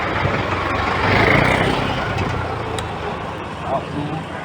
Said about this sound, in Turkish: Otobüs geçerken.